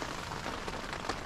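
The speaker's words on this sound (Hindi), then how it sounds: "बारिश भी काफ़ी तेज़ हो रही है" Heavy rain at a campsite in Jammu and Kashmir drumming steadily on a tent: a dense, even hiss of raindrops, close and constant, with no voices.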